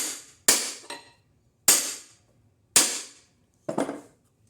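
Four sharp, separate hammer taps drive a holdfast tight on a workshop bench, each a bright ringing crack that decays quickly, spaced about a second apart, close and loud with no voices.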